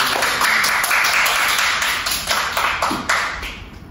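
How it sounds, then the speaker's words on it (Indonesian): Students clapping together in a classroom during a micro-teaching lesson on derivatives, a dense, fairly close patter of hands that thins slightly toward the end, with no talking over it. "Beri tepuk tangan"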